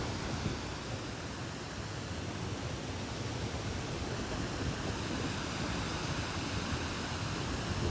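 River water flowing fast after heavy rain, a dense, even rushing roar with no breaks, steady and fairly faint throughout.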